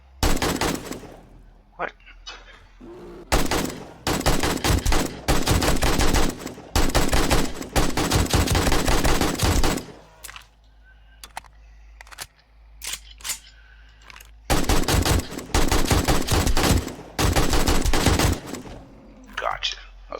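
Sustained bursts of automatic gunfire in 7 Days to Die, loud and near, broken by short pauses for reloading between long volleys, with a voice briefly heard.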